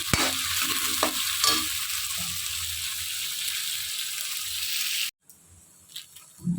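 Dry spices with coriander, cumin and turmeric frying and being stirred for niramish ghugni, a steady loud sizzle with scraping stirs, then cutting off abruptly into near silence and a couple of faint clinks.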